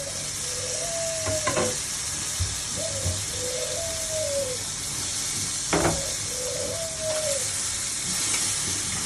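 A pan of cooking ingredients sizzles loudly and steadily after a little water is poured in, with a constant hiss, a few spoon knocks against the pan, and faint thin whistles of steam.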